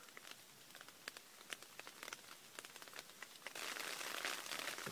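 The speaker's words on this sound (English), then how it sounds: "Kind of getting rained out right now." Rain patters on a tent at a solo campsite, with scattered drops tapping at irregular intervals before the pattering swells into a steadier, louder wash near the end.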